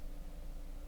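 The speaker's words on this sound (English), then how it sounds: "And then some very heavy distortion, which just makes it sound like TV static." A heavily distorted pre-drop sample from an electronic music track, layered with its dry signal, forms a dense, steady wash of static-like hiss and rumble that fills the whole moment without pause.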